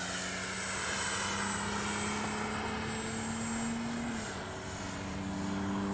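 A Freewing T-33 80mm electric ducted-fan RC jet flies overhead, giving a steady, loud whining drone whose pitch drifts slightly as it passes.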